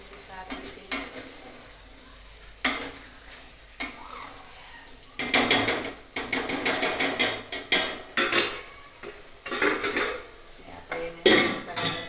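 A spoon scraping and clanking around a pot of eggplant masala curry on a gas stove, irregular bursts of stirring and metal knocks over a soft sizzle, close and fairly loud with no talking.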